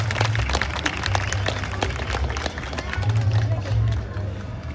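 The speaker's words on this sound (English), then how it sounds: "let's give these people a round of applause for being good sports" Applause from an audience at an outdoor amphitheater during a Canada Day performance: scattered, crisp claps in bursts over low rumbling background noise, moderately loud and sustained for several seconds.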